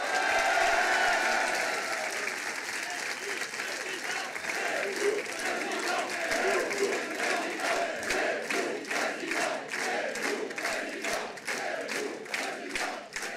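A large crowd at a Reconquête political rally in Chaumont-sur-Tharonne applauds and cheers loudly, the clapping turning into steady rhythmic unison claps in the later seconds, with voices calling out among it.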